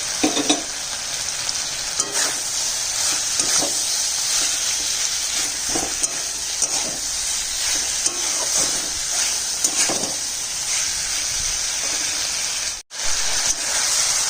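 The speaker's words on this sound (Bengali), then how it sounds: "ভাজা করলা আলুটা দিয়ে দিলাম।" Pieces of bitter gourd and potato, already fried, sizzle in a pan over spiced onion and tomato masala, a steady close hiss with occasional stirring scrapes and no talking.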